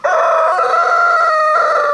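A rooster-type chicken crows loudly and steadily close by outdoors on a farm with pigs, the sustained call filling the short moment on its own without any talk.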